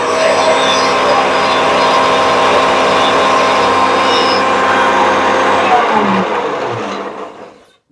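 An overhead router cutting a groove in wood stock that is pushed slowly through, a loud steady whine and roar lasting several seconds, then dropping away as the cut ends and the motor fades.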